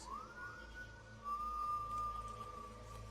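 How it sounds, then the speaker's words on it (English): A whistle signal in a woodland scene of a zombie TV drama: one long, steady, fairly high tone that starts softly and holds, faint and distant over a quiet background. "It's a savior whistle."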